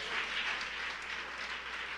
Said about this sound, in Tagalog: Matunog pa rin ba ang ating mga palakpak para sa ating mabait na Diyos?